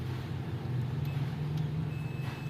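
A buzzer sounds during testing of a disassembled generic speaker: a brief blip, then a steady thin high tone holding through the last part, over a low constant hum and quiet room noise.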